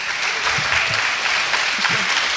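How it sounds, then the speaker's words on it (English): An audience at a panel discussion applauds in a steady, dense wash of clapping that holds at an even level, with low voices murmuring faintly underneath. "Give her a round of applause."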